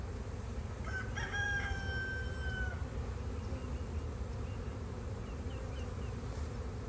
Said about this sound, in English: A lot of bees, just gentle smoke